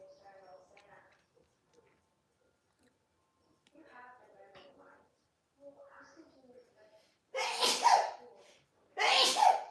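Two loud, sharp sneezes in quick succession close to the mic, following some quiet, muffled talking and movement.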